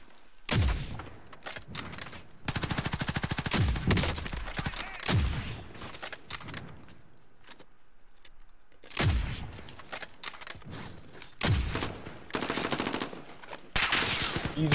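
Automatic gunfire with explosive rounds in Call of Duty Warzone, repeated loud rapid bursts separated by short pauses, close and punchy, with occasional booming impacts.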